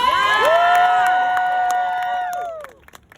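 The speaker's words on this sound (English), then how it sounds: "give her a round of applause" An audience at a fashion catwalk event cheers and shouts loudly, a bright burst of voices that holds for about two seconds and then quickly fades away.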